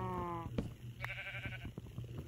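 Two sheep bleats in Minecraft, a wavering call followed by a second higher one a moment later, with a low steady hum beneath.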